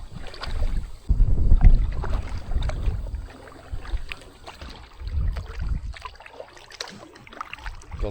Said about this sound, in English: Wind's picked up a bit.